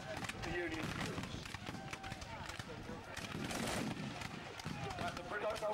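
Enfield rifles crackle in ragged volley fire at an outdoor American Civil War reenactment, a dense continuous clatter of shots and commotion that continues under a narrator's voice.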